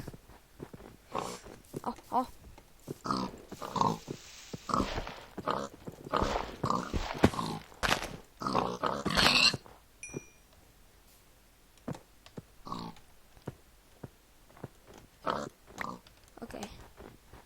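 A pig in the Minecraft video game grunts repeatedly in short oinking bursts amid clicking in-game sounds, with quieter scattered noises afterward.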